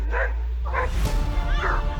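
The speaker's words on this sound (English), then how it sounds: "A kangaroo and a dog clashed underwater." A dog yips, barks and whimpers in short bursts while fighting a kangaroo in water, close and loud over a constant splashing wash of noise.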